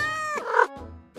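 Kittens at a pet store meow close by, a loud drawn-out cry that breaks into a brief strained squeal and is then followed by a second short mew, with no voices in the background.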